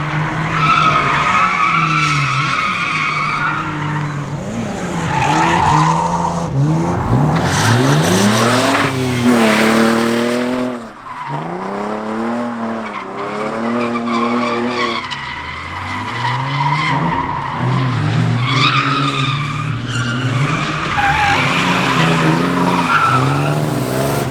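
Nissan 370Z drifting with loud, continuous tire squeal and skidding over a revving engine, up close and sustained with a brief dip midway.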